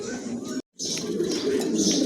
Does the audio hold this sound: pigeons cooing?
yes